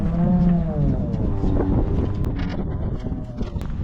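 Cattle low in an open field, one deep drawn-out moo up close at the start, followed by wind buffeting the microphone and faint rustling.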